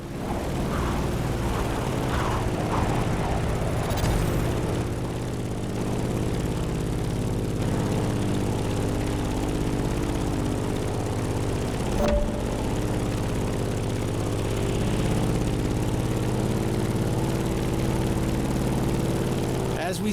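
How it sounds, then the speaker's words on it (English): A Grumman F8F Bearcat propeller fighter drones through a flight in the racing game The Crew Motorfest, a steady, loud engine hum with a deep harmonic drone and little change over its length. "In the cockpit of a stunning Grumman F-8F Bearcat, or simply the Bear."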